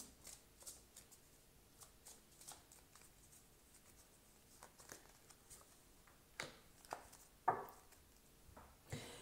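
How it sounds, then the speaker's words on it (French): Tarot cards being shuffled by hand: soft, quick riffling and patting strokes in irregular bursts, close but quiet, with a few sharper card snaps toward the end. "Je vais tirer une carte pour vous pour l'année 2024 avec les arcanes majeures du tarot que j'ai choisis."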